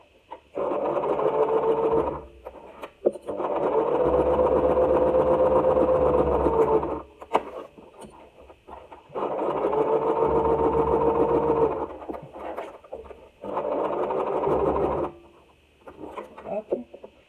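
A sewing machine stitches fabric for a Christmas-tree advent calendar with sock pockets, running in three long steady bursts separated by short pauses, with faint talk and handling noises in the gaps.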